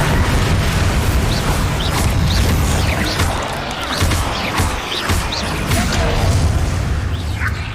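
A Bombarda spell explodes in the video game Hogwarts Legacy with a loud, continuous barrage of booming blasts and crashing debris, rumbling densely throughout with little pause.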